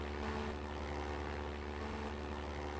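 Propeller plane from Minecraft's Flan's Plane Mod flying, a steady droning engine hum with a constant tonal buzz, fairly faint and unbroken throughout.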